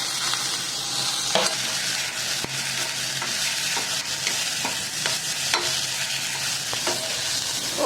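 Chayote and mint sauté in a pan for chutney with a steady, loud sizzle. Sharp scrapes and taps from stirring recur every second or so, and nobody speaks.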